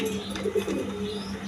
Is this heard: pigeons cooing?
yes